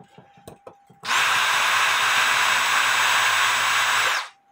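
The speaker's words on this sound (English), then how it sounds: "You see the drill bit walking down the spring." A drill whines loudly and steadily for about three seconds as the bit walks across a hard clock mainspring, after a few faint clicks, then stops abruptly; no voices.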